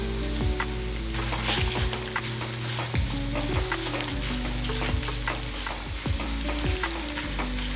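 About 100 grams of toor dal fry in a pan close by, giving a steady, crackling sizzle broken by repeated scraping taps of a spoon as the lentils are stirred, with no voices.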